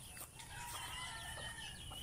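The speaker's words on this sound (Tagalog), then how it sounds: "Ito yung manok ko." Backyard chickens clucking and calling softly over a steady outdoor background hiss, with several short bird calls through the clip.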